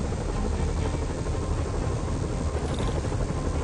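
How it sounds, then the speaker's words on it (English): Helicopters flying overhead in the Spider-Man video game, a steady loud rotor drone and engine buzz running without a break, with no talk over it. "Bet I can use those helicopters to swing."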